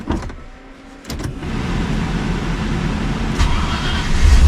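Land Rover Discovery engine idling after startup, a low steady rumble near the microphone with a brief whirring and clunks at first, then a constant hum growing slightly louder.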